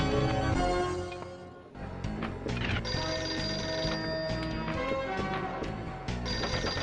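A pinball table plays its telephone-ringing effect, a bright electronic ring repeating over the machine's busy music and game sounds.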